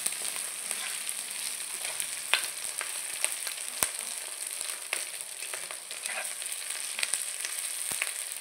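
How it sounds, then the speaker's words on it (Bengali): Green chilli, ginger and potato frying in a pan, a steady broad sizzle with scattered crackles and pops from the oil, alone and close. "চিড়ে রাখা কাঁচা লঙ্কা, আদা আর আলুটাকে আমি ভালো করে ভেজে নিচ্ছি।"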